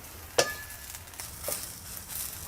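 Cluster beans and cumin sautéing in a pan for a village-style meal, giving a faint steady sizzle with a few brief clinks and stirring noises near the start and middle.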